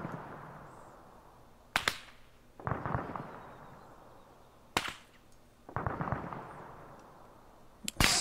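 A grenade launcher fires in a base defense video game: three sharp reports, each followed after about a second by a rumbling burst, spaced a few seconds apart and fairly loud.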